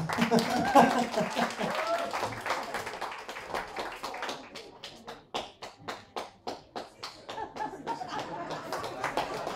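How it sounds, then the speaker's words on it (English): A studio audience claps at a singing competition's knockout round, the claps turning more rhythmic and evenly spaced midway, with laughter and talk over the start. "clapping, guys. Come on."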